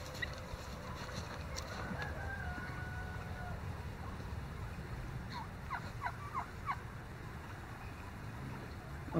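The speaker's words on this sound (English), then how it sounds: "here's Jim taking the turkeys for a walk." Several Ridley Bronze turkeys gobble in short bursts outdoors while being walked, a bit distant, over a steady background rumble and faint voices.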